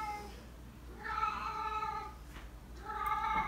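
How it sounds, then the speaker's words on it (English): A cat meows close by in two long, drawn-out calls separated by a short pause, loud against a quiet room. "My cat has decided this is the time to sing the song of his people."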